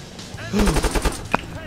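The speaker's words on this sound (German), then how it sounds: "die schießen schon" A quick burst of automatic gunfire rattles out in about half a dozen rapid shots during urban house-to-house combat in ARMA 3, with a sharp single crack after it and voices talking around it.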